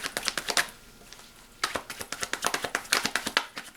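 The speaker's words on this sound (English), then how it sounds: "we're going to do one more shuffle here." Tarot cards shuffled by hand in quick bursts of close, crisp slaps and patters, with a short pause between two runs.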